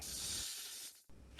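A snake gives a steady, breathy hiss that runs for about a second, cuts off abruptly and then starts again briefly, heard alone without any talking.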